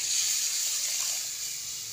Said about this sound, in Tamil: இப்போ புளி தண்ணியை ஊற்றிக்க